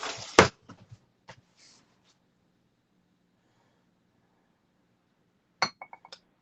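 A spoon clinks against glass containers while making homemade vegan butter: a few sharp, close taps at the start, a long quiet stretch, then a quick cluster of light clinks near the end.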